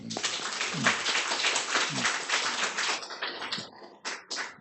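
A congregation at a Wednesday church service claps together in a short burst of applause, with a voice carrying over the clapping.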